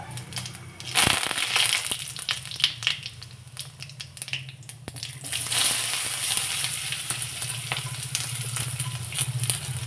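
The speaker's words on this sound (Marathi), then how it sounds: "मोहरी चांगली तडतडली की जिरे आणि कडीपत्ता घातला" Mustard seeds, cumin and curry leaves crackle and sizzle in hot oil, a busy popping hiss with sharp snaps scattered through it.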